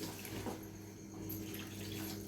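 Water runs and splashes steadily into a pan of dal khichdi, a soft continuous pour with a faint background hum.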